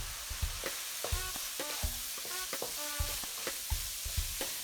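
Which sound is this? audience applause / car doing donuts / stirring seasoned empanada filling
stirring seasoned empanada filling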